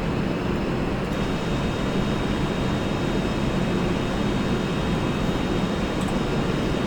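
Engines of a Vickers VC10 airliner in a flight simulator game, climbing out after takeoff on two engines, make a steady, unbroken broadband drone with no one talking.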